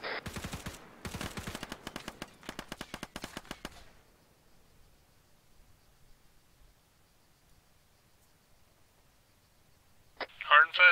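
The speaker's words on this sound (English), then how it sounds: "Alright, I'm shooting in 3." Gunfire in ArmA 3, opening with a dense burst of rapid automatic shots, loud and close, that tails off into quiet, followed near the end by a short chirping electronic sound.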